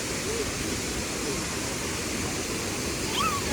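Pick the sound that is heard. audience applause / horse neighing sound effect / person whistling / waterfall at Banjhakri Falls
waterfall at Banjhakri Falls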